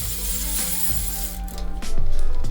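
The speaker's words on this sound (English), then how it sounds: "to thread it in, we're going to pedal the bike backwards" A bike is pedaled backwards while a pedal is threaded into the crank, producing a rapid ratcheting freewheel click close by, briefly under a steady background hum.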